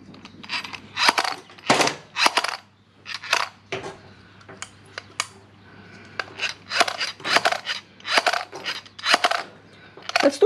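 Gears inside a Toyota 1UZ VVTi drive-by-wire throttle body, with its return spring removed, whir and rattle in repeated short bursts close to the microphone, separated by brief pauses and sharp clicks.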